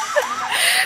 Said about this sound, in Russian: Обалдеть! Сирены!